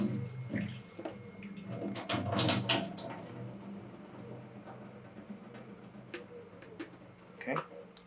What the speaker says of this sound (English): We'll rinse this until there's no more soap left.